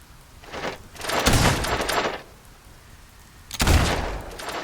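Gunfire in the video game Fable II: two loud bursts of rapid, crackling shots, the first lasting about a second, the second starting later and trailing into a noisy rumble, with no talking.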